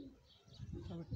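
A pigeon near water gives a brief, faint, low cooing call, soft and muffled across the short moment.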